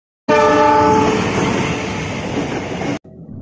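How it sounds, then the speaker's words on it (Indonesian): An economy-class Cikuray passenger train hauled by a CC206 diesel locomotive sounds its horn loudly and close by, a single sustained blast of about three seconds over rumbling rail noise that then cuts off abruptly. "Kereta api Cikuray pada siang hari ini ditarik oleh lokomotif dinas CC206 1371 Depo Induk Cipinang."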